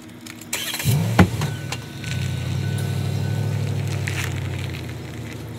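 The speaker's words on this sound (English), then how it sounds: "I can go move the truck out of the drive" A pickup truck being started and driven out of an RV campsite driveway: a brief clattering start and a sharp knock, then a steady low engine rumble that stays close and even, with no voices.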